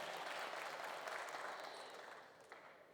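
A hall audience at a special lecture by space scientist Mylswamy Annadurai gives sustained applause, a dense, faint, even patter of many hands that slowly tapers off.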